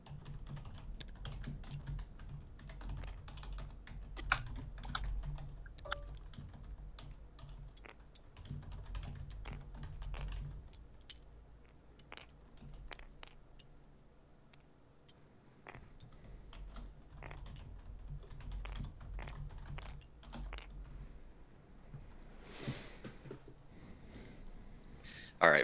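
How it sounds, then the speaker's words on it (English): Rapid keyboard typing clatters in scattered bursts throughout, fairly quiet and close, during an online game match with occasional low talk underneath. "You might hear me typing a bunch."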